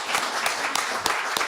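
Audience applause at a poetry press anniversary evening, a dense steady patter of many hands clapping with a few sharper claps standing out, filling the short moment on its own.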